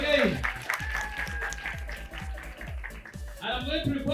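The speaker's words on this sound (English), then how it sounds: "Let's clap for him once again." A school audience applauds at a primary schools poetry competition in Uganda, steady crowd clapping filling the clip with a brief dip before it swells again, with voices mixed in.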